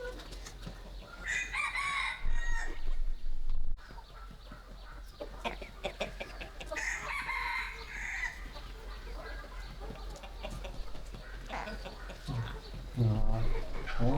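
Chickens cluck and a rooster crows on a rural farm, the calls coming in bursts near and far over steady background noise, with someone talking at times.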